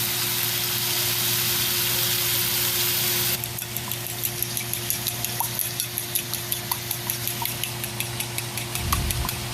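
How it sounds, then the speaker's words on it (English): Egg scrambled in a hot frying pan for Nisha-style combo fried rice: steady sizzling, then rhythmic scraping and tapping of a utensil against the pan, with a low background hum. "Lower my heat so I can scramble an egg."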